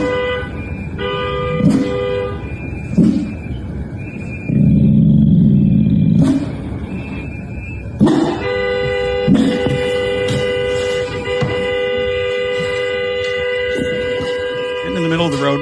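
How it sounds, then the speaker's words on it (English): A car horn sounds in a street where a woman sits blocking traffic, with repeated loud blasts, some short and one long, over traffic noise. "Honking her horn."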